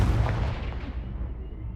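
A Confringo fire-blast spell explodes in the Hogwarts Legacy video game, a single booming burst that decays quickly into a fading low rumble.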